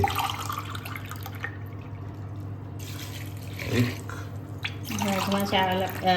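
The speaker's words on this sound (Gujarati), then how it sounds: "હવે આપણે એમાં પાણી એડ કરી લઈશું." Water pours into a pot of mixed lentils and kidney beans for dal makhani, a close splashing gush that builds near the end, with a voice talking over the kitchen sounds.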